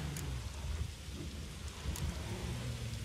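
Steady rain pours in a thunderstorm in The Witcher 3, a dense hiss with low rumbling thunder rolling underneath and a couple of brief sharper crackles, continuous and close throughout.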